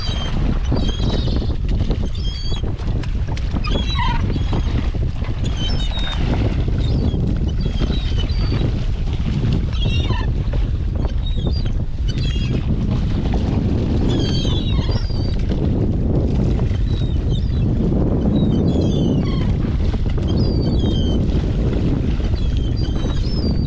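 Strong wind at sea aboard a fishing boat on the Barents Sea, a loud continuous roar and buffeting against the microphone with water wash throughout, no voices.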